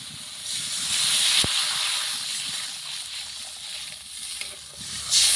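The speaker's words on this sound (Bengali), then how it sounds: "ভালো করে ভেজে নিয়েছি, এখন দিয়ে দেব জল" Water poured into a pan of hot fried spice paste with green chilies bursts into a loud, steady hiss and sizzle that holds for several seconds and swells again at the end.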